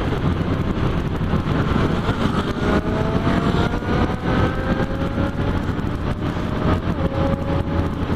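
Yamaha Ténéré 650 twin-cylinder motorcycle ridden along a road, a steady loud engine drone with rising and falling pitch as it accelerates, under constant wind buffeting, with no talking.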